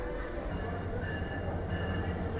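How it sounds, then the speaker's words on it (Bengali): Parjatak Express intercity train from Dhaka pulling into a station platform, a steady broad rumble of rolling wagons throughout, fairly close and continuous with no clear horn. "ট্রেন কিন্তু রাইট টাইমে প্রবেশ করতেছে।"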